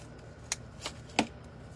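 Scissors cutting ribbon while making a simple loopy bow for a nautical anchor wreath: three short, crisp snips close by, spaced apart over a quiet background.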